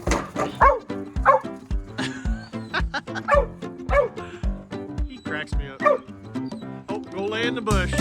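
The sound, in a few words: dogs barking while playing in a back yard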